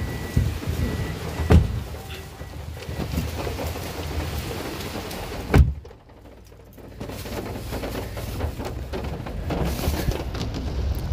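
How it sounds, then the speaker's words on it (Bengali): Heavy rain pours steadily in Sylhet, a dense continuous roar broken by two deep thunder rumbles, the second followed by a brief lull before the downpour swells back. "দেখতেই পাচ্ছেন অনেক বেশি বৃষ্টি হচ্ছে"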